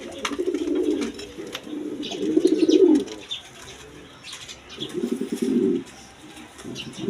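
Pigeons kept for sale coo in deep, throaty bursts, three clear phrases with short pauses between them, close by and alone over a faint background of light rustling.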